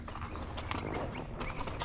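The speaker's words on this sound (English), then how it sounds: "this is a brave trail horse to walk right up past there" Hooves of a trail horse walking a path near a barn, a steady run of clip-clop steps over continuous outdoor background noise, with no talking.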